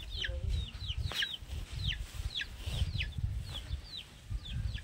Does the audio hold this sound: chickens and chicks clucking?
yes